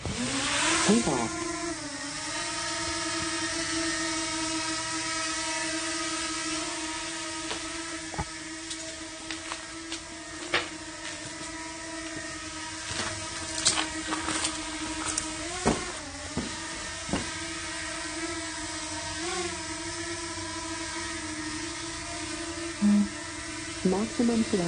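A DJI Mavic Mini Pro drone takes off and flies near an abandoned mansion, its steady high-pitched propeller whine humming continuously with shifting pitch, punctuated by scattered clicks and small bumps.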